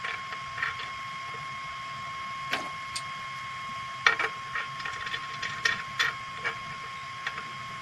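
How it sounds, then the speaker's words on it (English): Clamps being fastened to hold an MDF test board on an AnoleX 3030-Evo Max CNC router bed, heard as scattered sharp mechanical clicks and ratcheting taps over a steady machine hum, fairly close, with no speech. "Use clamps to fix the MDF test board."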